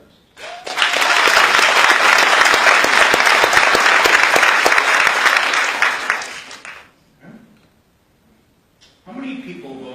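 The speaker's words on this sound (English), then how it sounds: "How many people, by round of applause," Loud, sustained applause from a comedy club crowd swells for about six seconds, then fades out, followed by a brief pause before a voice begins speaking.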